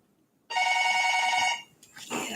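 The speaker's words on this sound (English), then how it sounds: "Oh, somebody's calling me." A telephone rings with an incoming call, one sustained electronic ring of about a second, loud and close, followed by a brief softer tone.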